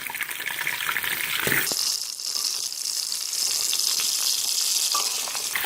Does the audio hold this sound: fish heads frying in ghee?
yes